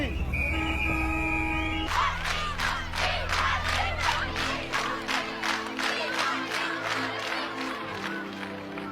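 Large crowd mobbing cricket star Imran Khan, armed police present, a dense mass of shouting voices with repeated rhythmic chant bursts, loud and near, after a short opening tone.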